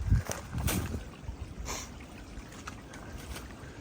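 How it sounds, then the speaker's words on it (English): A mountain stream trickles and burbles steadily along the Appalachian Trail near a campsite by Muskrat Creek Shelter, a soft continuous water wash with a few louder splashy bursts at the start. "I don't know if I've called a mountain stream of the day or not, but this is most definitely it"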